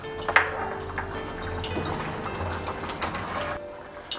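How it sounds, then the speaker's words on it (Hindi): Melted ghee is poured over cooked masoor dal with poi saag greens, giving a soft, steady liquid splash and drip with a few brief clinks, close and fairly quiet, with no voices. "अब इसके ऊपर से मैंने जो घी लिए थे वो दे दिए"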